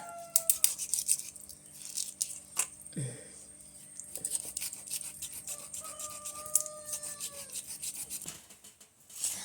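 A knife slices choora fish into thin pieces, giving soft close rubbing and squishing strokes with faint scraping, quiet and irregular with no talk.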